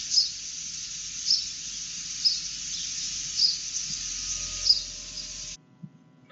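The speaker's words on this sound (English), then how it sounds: "there is birdsong." Thin, high bird chirps repeat about once a second over a soft hiss near data centers, each chirp short and faint, before the background cuts off abruptly near the end.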